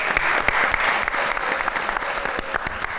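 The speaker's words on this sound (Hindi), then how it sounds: "तालियां।" An audience claps loudly and continuously in a studio talk show setting, the applause dense and sustained throughout.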